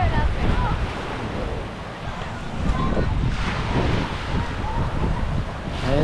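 Sea waves wash continuously at Puerto Galera beach, a broad surging roar heavily buffeted by wind against the microphone.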